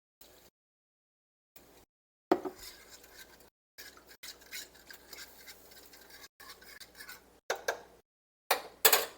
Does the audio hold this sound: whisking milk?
yes